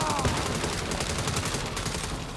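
Gunfire in a Saints Row video game rattles in rapid, dense bursts, with automatic weapons crackling loudly and close and overlapping into a steady fusillade.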